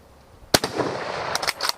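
A Kar 98 rifle fires at a steel target downrange: one sharp, loud shot cracks out, trailed by a ringing echo and a couple of fainter distant reports near the end.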